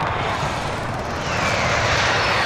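A helicopter flies overhead in Call of Duty: Modern Warfare, a continuous loud rotor and engine roar that swells slightly, heard alone without talking.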